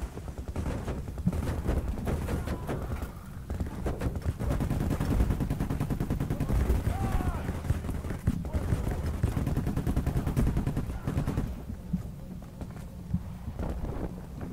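Rapid gunfire in the PayDay: The Heist video game, continuous loud bursts and rattling shots running throughout with only brief gaps, no talk.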